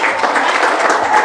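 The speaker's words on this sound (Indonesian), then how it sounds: "Oke, beri tepuk tangan buat kalian semua." Audience clapping at a mosque gathering, dense steady applause from a crowd close by, lasting the whole short moment without a break.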